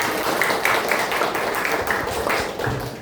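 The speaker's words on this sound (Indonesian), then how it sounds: "Oke, tepuk tangan buat kita semua." A school class in Bekasi claps together. Steady, dense clapping continues throughout at a close, even loudness, with rhythmic pulses in the patter.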